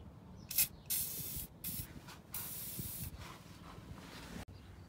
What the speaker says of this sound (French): Il va falloir dégripper les boulons.